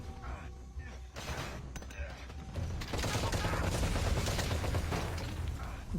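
A light machine gun fires in a video game, a loud, dense stream of rapid shots that grows heavier in the second half, mixed with mechanical clatter and thuds.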